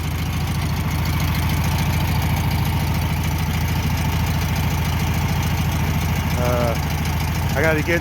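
A 1962 VW bus engine idles steadily and loudly at close range, a continuous throbbing drone after a power loss on a trip; someone speaks briefly near the end.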